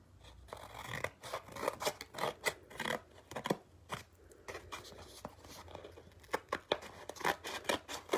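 Scissors cut through a paper plate in half, making a series of close, crisp snips and crunching slices in an uneven rhythm, with brief pauses between cuts and no talking.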